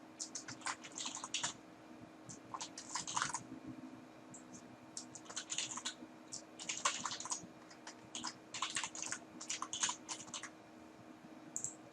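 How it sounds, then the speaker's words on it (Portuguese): Account details are typed on a computer keyboard in quick, irregular bursts of soft clicking keystrokes, heard close and alone against a low background hum. "Você deve digitar seus dados."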